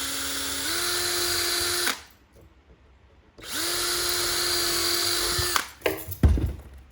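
A small power drill runs in two bursts separated by a short pause, whining steadily up close as it drills holes in an antler, followed by a few clattering knocks.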